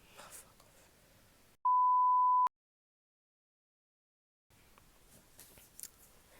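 A single steady censor beep tone lasts just under a second, loud and clean, cutting in between stretches of quiet background and followed by silence.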